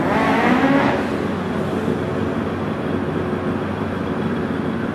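At a hill climb championship, a race car heads across the finish line; its engine gives a steady, fairly loud drone that peaks early then holds, heard alone with no talk.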